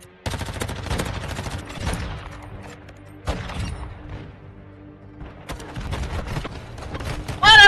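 Semi-automatic gunfire in a multiplayer shooter video game, a steady run of sharp shots in several bursts with brief pauses, mostly alone with game sounds around it.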